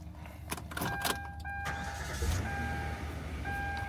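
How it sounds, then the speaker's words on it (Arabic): An engine cranks and catches on a car bought at an American salvage auction, a few short bursts as it starts, then a steady idle close by with a thin electronic chime tone over it. "خلينا نشغل المحرك مالتها"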